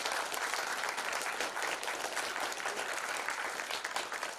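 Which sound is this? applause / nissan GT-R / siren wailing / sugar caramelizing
applause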